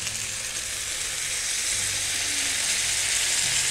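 Sauce is poured over chicken pepper steak on a hot sizzling plate, producing a loud, dense and continuous hiss that holds steady without pause and with no talking.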